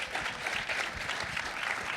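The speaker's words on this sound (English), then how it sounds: "Let's give a massive round of applause to all of our panelists" An audience applauds the panelists at the close of a digital-natives panel event in Melbourne, a steady, moderately loud wash of clapping throughout, with no speech over it.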